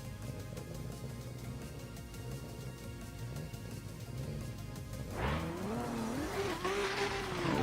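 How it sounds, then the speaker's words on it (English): Toyota A90 Supra drift car in a virtual drift series, with steady engine drone that bursts into loud revving and wavering tire squeal in the last seconds as the car slides. "enjoy the sounds of this beautiful Toyota A90 Supra as Kristaps Rasa gets a buy run into the top 16"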